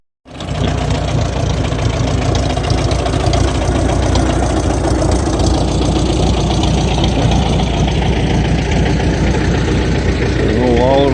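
An antique diesel tractor idles steadily and close by at a homesteading expo, a loud, continuous low knocking rumble that carries on without a break for the whole stretch.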